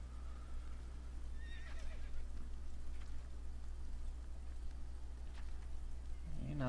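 A horse neighs in the Assassin's Creed video game, a short whinny in the middle distance over a steady low game ambience, with a faint clip-clop and rain-like hiss in the background.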